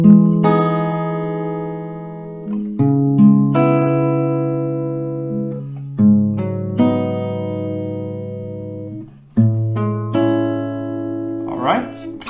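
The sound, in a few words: acoustic guitar playing a song melody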